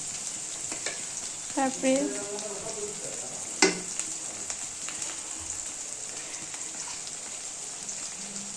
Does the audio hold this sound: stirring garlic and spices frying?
yes